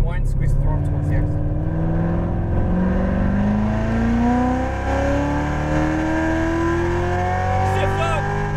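Chevrolet Corvette Z06 Stingray engine accelerating hard on a race track, its rising revving note climbing steadily and loudly from close by, with faint tire noise beneath.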